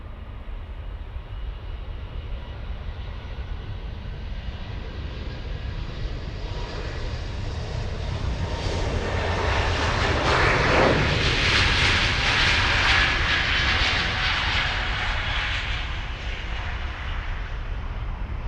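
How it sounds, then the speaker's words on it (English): A Swiss airliner takes off at Munich airport, its jet roar building steadily from a distant rumble to a loud, broad whoosh at its peak before holding strong and easing slightly. "Oh my goodness, we have Swiss taken off."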